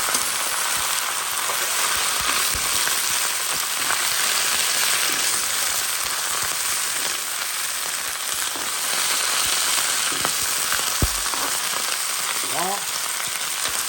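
Fish frying in hot oil gives a dense, steady crackling sizzle close up for the whole stretch, with occasional sharper pops and spatters.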